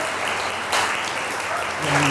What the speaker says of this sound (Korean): 박수 한번 쳐주시면 예술이거든요.